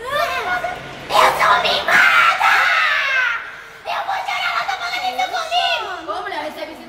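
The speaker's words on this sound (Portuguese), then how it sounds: "Tá gritando toda hora, tá incomodando." Young children scream and shriek repeatedly in loud, high-pitched bursts, mixed with giggling and chatter as they play near a car.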